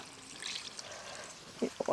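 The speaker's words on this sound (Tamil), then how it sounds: "இப்போ நல்லா வதக்கியாச்சுங்க இப்போ தண்ணி சேர்த்துக்கலாம்" Water poured from a large tumbler into a pan of country chicken for Pallipalayam chicken makes a soft, steady trickle, with a few louder splashes and a brief voice near the end.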